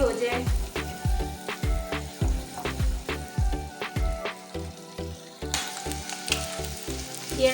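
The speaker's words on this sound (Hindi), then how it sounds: "इतना हम इनको फ्राई कर देंगे, ये गोल्डन कलर के हो जाए।" Boiled eggs and potatoes fry in a pan until golden for a restaurant-style egg gravy. A steady, close sizzle runs throughout with a regular rhythmic pulse underneath.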